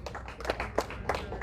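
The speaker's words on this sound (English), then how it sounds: "Let's appreciate these youngsters with a hand clap." Brief scattered hand clapping from a crowd at a political campaign launch gathering, a few sharp claps mixed into the room, with a voice talking over them.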